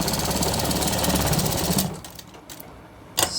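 A sewing machine runs fast and steady while stitching a shirt seam, a dense mechanical whir that stops after about two seconds, followed by quiet handling noises.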